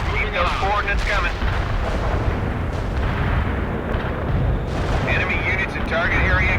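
Heavy artillery barrage pounding a battlefield in the strategy game World in Conflict, a dense, continuous rumble of blasts and booms at steady loudness, with voices talking over it.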